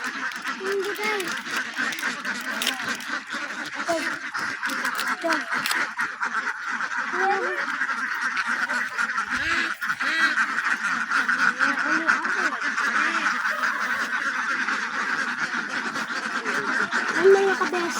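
Ducks quack constantly in a close, busy flock where eggs are being collected, a steady dense chorus of nasal calls with people talking faintly beneath.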